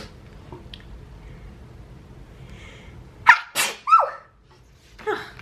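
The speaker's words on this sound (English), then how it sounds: "Got a sneeze." A quiet room, then a sudden close sneeze with a sharp burst of breath, followed by a couple of short snuffly sounds.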